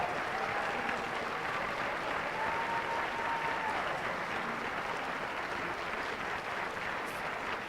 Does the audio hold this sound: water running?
no